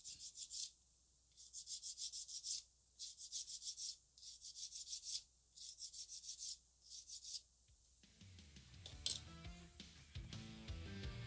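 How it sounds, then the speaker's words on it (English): A small plastic model kit part is filed flat with a hand file in repeated rapid rasping strokes, close and alone, followed by clinking and handling noises. "File that flat."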